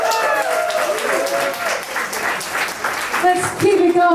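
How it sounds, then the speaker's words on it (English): Audience applause and cheering for a live music performer at an evening show, a steady dense wash of clapping with whoops and raised voices mixed in throughout. "Let's give him another round of applause."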